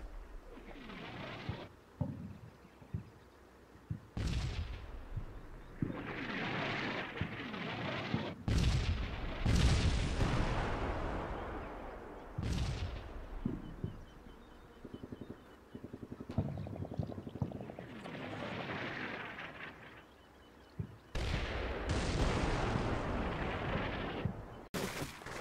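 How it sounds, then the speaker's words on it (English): Repeated airburst artillery shells bursting over a left flank in the wargame Combat Mission Shock Force 2, sharp loud blasts with rolling rumble recurring every few seconds, mixed with bird chirps in the background. "The left flank starts to take airburst shelling as well."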